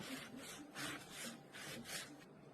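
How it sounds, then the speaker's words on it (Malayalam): Knife cutting through the thick peel of a pomelo, a quiet, close rasping scrape repeated in about six short strokes at a steady rhythm. "രണ്ട് ഭാഗവും ഇതുപോലെ നമ്മൾ കട്ട് ചെയ്ത് കളയും."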